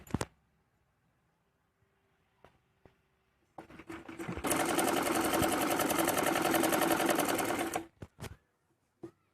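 A sewing machine stitches a salwar belt, a few faint clicks and taps giving way to a loud, steady mechanical whir of needle strokes lasting several seconds, then stopping with a couple of sharp knocks.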